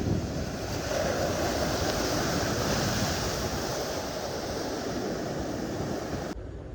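Sea waves wash steadily onto the shore in front of a seaside temple on the coast near Kanyakumari, a loud continuous surf roar with some wind buffeting and no talk.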